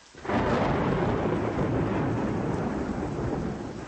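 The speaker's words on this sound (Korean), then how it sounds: "그리고 나서 폭풍이 부는 소리가 들리더니 비와 우박이 뒤섞여 떨어졌다." A storm of rolling thunder with heavy rain and hail bursts in after a brief quiet start and keeps up a loud, continuous roar.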